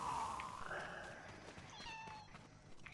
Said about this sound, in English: Oh, noisy cats.